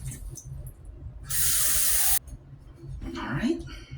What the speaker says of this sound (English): Put some water in this bowl.